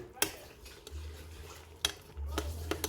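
A spoon turning meat, bomo and stockfish together in a cooking pot, with a few sharp scraping clinks against the pot over a low simmering hum, close and fairly quiet.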